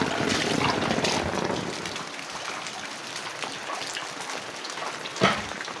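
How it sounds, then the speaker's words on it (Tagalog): Light drizzle and rain falling outdoors on a Philippine guava plantation, a steady soft patter of drops on leaves and surfaces, heavier at first then easing to a fine continuous hiss, with one brief louder splash near the end. "Ambon, ulan."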